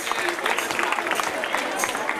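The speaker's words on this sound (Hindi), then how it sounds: "जोरदार तालियां बजाएं इनके लिए।" Audience clapping for a third-place team at an Urdu school quiz competition, a moderate, somewhat distant patter of many hands with a faint murmur of voices underneath.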